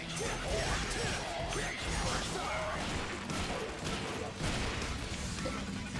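Dante's shotgun blasting in Devil May Cry 4, a run of loud, sharp crashing shots in quick succession with whooshes between them, set in dense, busy game audio.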